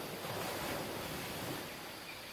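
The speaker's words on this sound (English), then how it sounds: "Waves on the beach." Ocean waves wash onto a beach in a soft, steady hiss with wind over it, faint and unbroken, with no voices.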